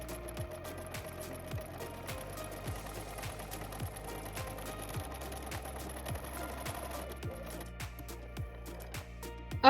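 Sewing machine stitching the joined ends of elastic with a wide zigzag, a close steady mechanical whirring with regular rapid needle clatter running throughout, without speech.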